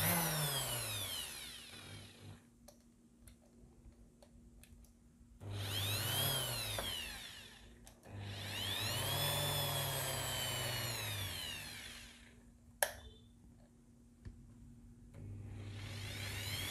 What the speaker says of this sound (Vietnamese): Rồi bây giờ để thử tải mình sẽ cấp điện vào trong cái máy khoan nha các bạn.